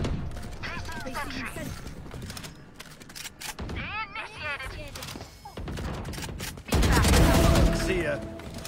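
Shotgun blasts and rapid gunfire from a video game, with bursts, mechanical clicks and a heavy loud blast near the end, mixed with game chatter and people talking.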